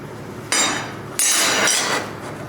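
Steel plate bent by hand at a slot cut to ease the bend during fabrication, heard as two bursts of loud, bright metallic scraping and ringing strain close by, separated by a short quieter pause.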